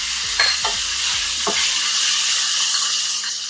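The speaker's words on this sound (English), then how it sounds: "now my onions are sauteed, they're translucent at this point" Onions sauté in a pan with ginger garlic paste, giving a steady bright sizzle while a utensil scrapes and stirs a few times near the start, close by with no talking.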